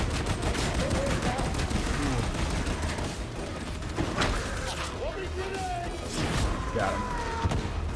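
In the video game Darktide, an enemy gunner fires in rapid, repeated bursts of gunfire close by, mixed with other combat clatter while someone talks over the fighting.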